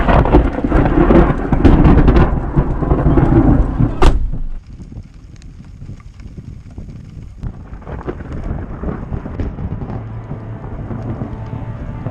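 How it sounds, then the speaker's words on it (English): Rain pours loudly at a fire lookout tower, with a dense rumbling wash that breaks off abruptly, leaving a quieter patter and gusts of wind on the microphone. "it started to rain"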